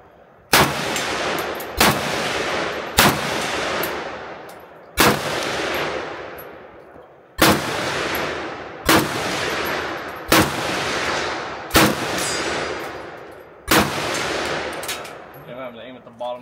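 Test firing of a Century C39V2 rifle outdoors: a series of about eleven loud, sharp gunshots at uneven intervals of roughly one to two seconds, each with a short decaying echo, and a brief voice near the end.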